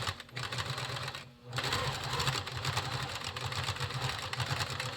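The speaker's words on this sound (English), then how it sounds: "Put that under your presser foot. Stitch all the way down." A sewing machine stitches along the edge of a fabric face mask, whirring steadily and close, with rapid needle clatter that pauses briefly once before running on.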